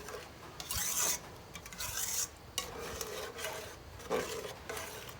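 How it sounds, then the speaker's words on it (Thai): Curry paste simmering in a pot of fresh coconut milk for a Thai khilek curry with pork skin, with bursts of scraping and rasping stirring that come and go over a soft, steady background. "เคี่ยวให้เครื่องแกงหอมสักพักเนาะ"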